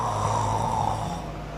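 A man imitates a snore with his voice during an Indonesian religious sermon: one drawn-out, raspy, rumbling breath, close and fairly quiet, with no other talk.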